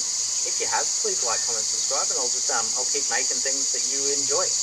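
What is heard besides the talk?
cicadas chirping on a hot morning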